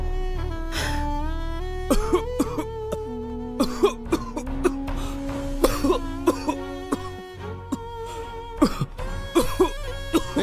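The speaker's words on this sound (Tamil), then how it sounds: "என்னடா டிபி வந்த மாதிரி இருமுற?" Repeated coughing fits in a Tamil comedy scene, a string of harsh bursts over a steady musical tone and background bustle.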